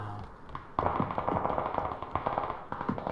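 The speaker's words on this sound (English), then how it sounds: "Gunfire is intensifying." Rapid bursts of gunfire in PUBG crackle continuously at moderate volume, sharp repeated shots layered into a dense, busy battle sound.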